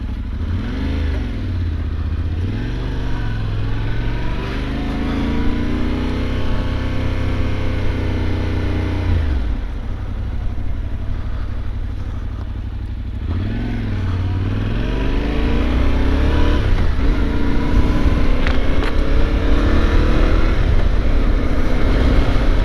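A Yamaha Tenere 700 motorcycle engine drones steadily while riding down a highway, with repeated rises and falls in pitch as it revs and shifts, growing louder toward the end.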